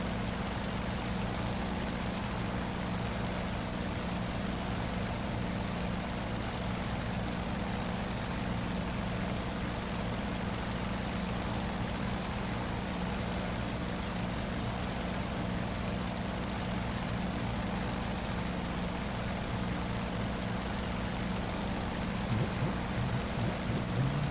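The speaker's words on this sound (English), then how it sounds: "I'm just gunning the shit out of this engine." F4U-1 Corsair in DCS World drones at full throttle, a steady loud propeller engine roar held without a break, close and continuous with no talk.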